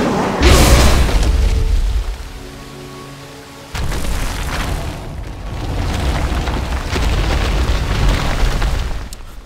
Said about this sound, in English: with the gauntlet, we can now destroy slash move giant boulders like this